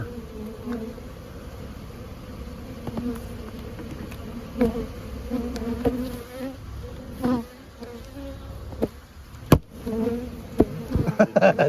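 A dense swarm of bees buzzes continuously nearby, with individual insects droning louder as they pass close.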